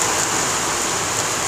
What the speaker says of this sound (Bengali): ভারী বৃষ্টি হচ্ছে অনেক জায়গাতেই।